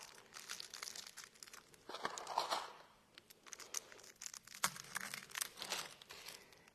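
Peppermint candy wrappers crinkle and crackle up close in irregular bursts of rustling, with short pauses between handfuls.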